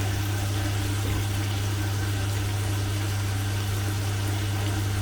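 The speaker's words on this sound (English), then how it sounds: "Whilst I wash up the bowl quickly, rinse it." A steady, hissing stream of tap water runs over a bowl being rinsed in a kitchen, constant and fairly loud with a low hum underneath and no voices.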